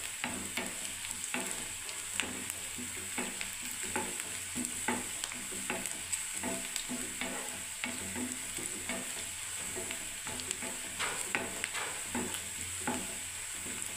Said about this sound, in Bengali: দেখুন বন্ধুরা এখনো ভাজা হচ্ছে, দেখুন কত টাইম লাগছে বাবা